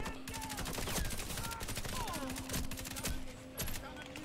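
MP5 submachine gun fire in the video game Warface, heard as rapid bursts of automatic shots over continuous game noise, fairly faint and somewhat muffled, with a voice talking faintly at times.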